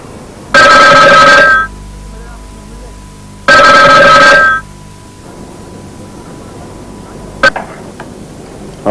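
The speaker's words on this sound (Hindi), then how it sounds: "अच्छा हुआ तुम्हारा फोन आ गया" A telephone bell rings loudly in two long bursts separated by a pause, followed by a brief clink in an otherwise quiet room.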